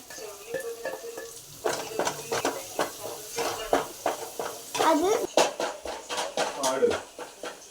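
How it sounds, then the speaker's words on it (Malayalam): Crushed shallots stirred and fried in a pan: a spoon scrapes and knocks against the pan in quick, irregular strokes over a steady sizzle, close by, with a voice talking alongside. "ആദ്യം അതിനകത്തേക്ക് ചെറിയുള്ളി ക്രഷ് ചെയ്തത് ഇപ്പോഴത്തെ നന്നായി മിക്സ് ചെയ്യുക"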